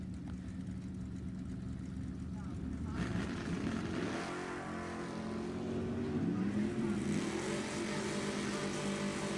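Drag racing cars, including a 1974 Pontiac Ventura, roar down the strip at an NHRA Summit Racing Series E.T. finals, a loud building engine rumble that swells midway and stays strong, under an announcer's voice.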